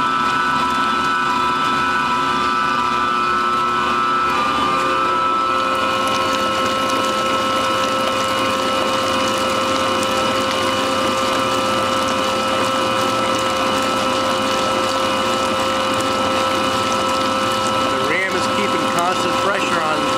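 A small 24 by 24 machine with 25 horsepower grinds thermoplastic rubber through a 3/8 screen, making a loud, steady mechanical drone with a constant hum that runs under someone talking.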